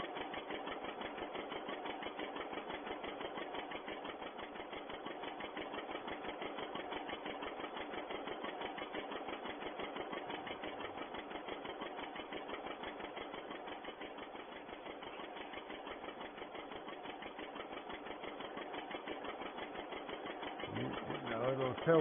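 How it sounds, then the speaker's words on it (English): A John Deere tractor engine pops along in an even, rapid rhythm while tedding hay in 1951, steady and fairly close on a thin, old-sounding recording. "the John Deere popping along as only a John Deere does"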